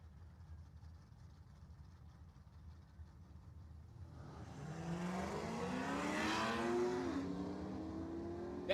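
Drag racing cars, a Trans Am taking on a Mustang, build from a steady idle into a loud roaring launch and accelerating pass, engines swelling close by before easing off.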